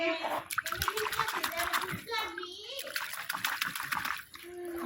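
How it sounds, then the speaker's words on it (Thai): Roots of a separated Caladium offshoot are rinsed by hand in water, making trickling and gentle splashing sounds close by while someone talks over them almost continuously. "พอเขย่าดินแบบนี้นะคะ เราก็เอาไปล้างน้ำค่ะ"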